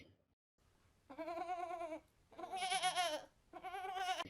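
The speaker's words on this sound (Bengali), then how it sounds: "ছাগলগুলি খুব জোরে চিৎকার চেঁচামেচি করতে থাকে" Goats bleat loudly in three drawn-out, wavering cries separated by short pauses, close and clear with no other sound around them.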